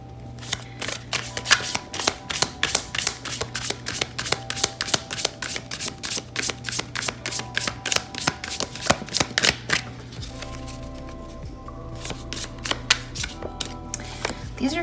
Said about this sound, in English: whenever a deck feels stuck and I'm shuffling it